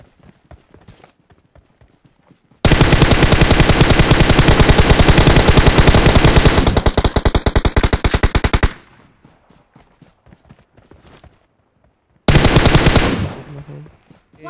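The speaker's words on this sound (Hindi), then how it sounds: "मेरी मशीन गन खाली कर दी" Rapid machine gun fire in PUBG/BGMI, two long sustained bursts of dense fast shots, very loud and close, separated by a quieter stretch of scattered sparse shots.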